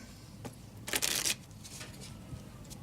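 A deck of playing cards is shuffled by hand, a quick riffling burst near the middle with lighter card handling before and after, close and fairly quiet.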